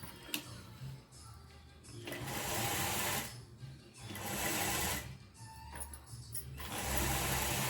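Sewing machine stitching churidar fabric, running in long steady whirring bursts separated by short pauses, loud and close with light background noise.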